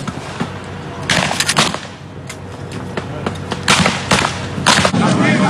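Several sharp bursts of gunfire crack out over a constant noisy background during a military uprising near La Carlota air base in Caracas, some shots clustered close together.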